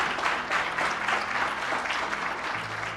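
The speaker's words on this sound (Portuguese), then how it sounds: "Pode aplaudir Jesus bem forte." A church congregation applauds strongly during a sermon, a short continuous roar of many hands clapping at once with some low background hum.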